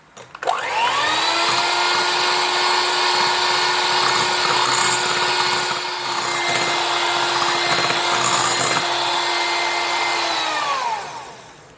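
An electric mixer whirs steadily as it beats eggs into a thick, foamy batter for a rolled sponge cake, a loud continuous motor drone with a brief dip midway before switching off near the end.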